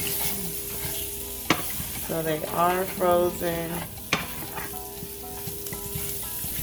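Frozen meatballs sizzle and fry in a pan while being stirred, with sharp utensil clicks against the pan and a steady frying hiss; a voice speaks briefly partway through.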